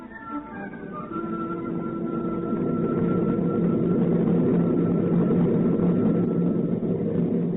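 Steady aeroplane engine drone used as a radio-drama effect, fading up from quiet and holding a continuous muffled roar with a faint tonal whine, in narrow, old-broadcast fidelity.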